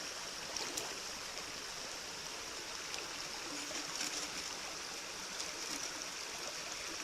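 Water sloshes and trickles around a gold pan, a continuous soft wash of moving water without any talk.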